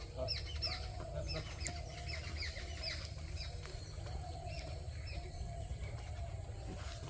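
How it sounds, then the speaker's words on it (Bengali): Many small birds chirp and twitter continuously in a village, overlapping calls over a steady low rumble of background noise. "পাখি পাখিতে কিচির মিচির করতেছে"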